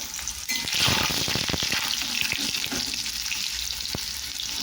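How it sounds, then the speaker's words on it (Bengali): Onions fry in hot oil, giving a close, steady sizzle and crackle. A burst of stirring clatter comes early, then the frying settles into an even hiss. "আজকে আমি কিন্তু পেঁয়াজ দিচ্ছি, দেখতে পাচ্ছি পেঁয়াজটা কীভাবে হচ্ছে।"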